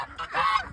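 Geese on a farm let out a short, fairly close honk on a windy morning, with no talk over it.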